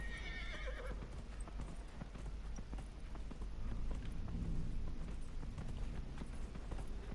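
Rhythmic hooves clop steadily along with a horse whinnying near the start in the video game Dragon Age: Inquisition, continuous and moderately loud over a constant low background hum.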